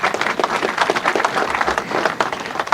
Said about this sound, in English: Let's give our chief guest a better clap.